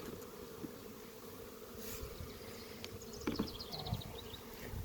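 Steady insect buzzing from many honeybees in an open hive, a dense low hum with brief louder passes, no talking.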